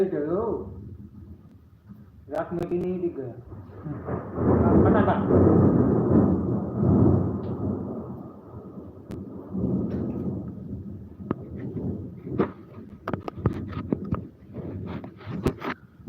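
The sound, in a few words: thunder during heavy rain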